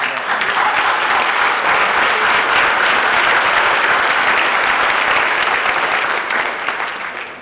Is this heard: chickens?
no